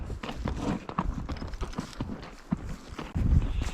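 Horses on a Sawtooth Mountains pack trip walking with clip-clop hooves, a steady, fairly close series of hoof thuds over outdoor ambience.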